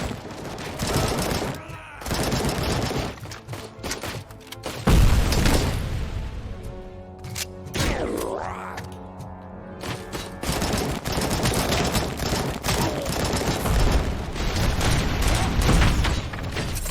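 Rapid heavy gunfire in the video game RoboCop Rogue City, loud sustained bursts of booming shots with a short pause midway, dense and continuous, with game sound effects layered in.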